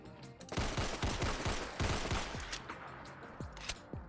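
Borchardt C-93 antique pistol fired repeatedly at a Deathclaw in Fallout 4: a rapid string of sharp, loud gunshots in quick succession, followed by a few more spaced shots amid creature noise and game ambience.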